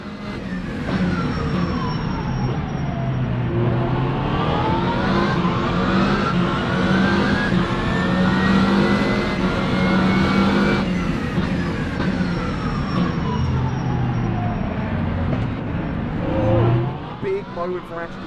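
Onboard race car engine in a sim racing endurance event at Bahrain, a loud continuous roar rising and falling through gear shifts, with commentators talking over it throughout.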